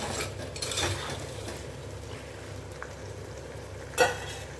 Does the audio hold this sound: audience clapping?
no